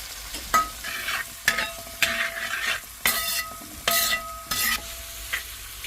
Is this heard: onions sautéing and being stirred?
yes